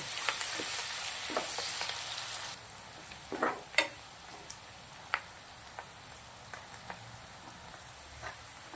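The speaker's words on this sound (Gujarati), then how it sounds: "આદું મરચાં લસણ ડુંગળી બહુ જ મસ્ત મજાનું શેકાઈ અને રેડી થઈ ગયું છે" Ginger, green chilli, garlic, chopped onion and curry leaves sauté in a little oil. A bright hiss fades after a few seconds into a softer sizzle with sporadic pops and stirring clicks.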